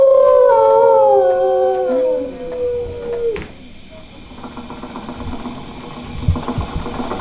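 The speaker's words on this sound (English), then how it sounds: "that old exercise machine she rescued from the attic" An old 1920s exercise machine runs in the Disney Carousel of Progress attraction, heard as a steady mechanical buzzing whir that follows a long, loud howl-like tone.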